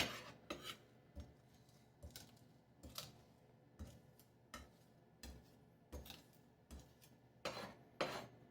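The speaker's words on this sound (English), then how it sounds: "you're just going to run your knife over to crush your minced garlic into a paste" A knife blade is dragged over minced garlic on a board to crush it into a paste, giving quiet irregular scraping strokes and soft taps with short pauses between them.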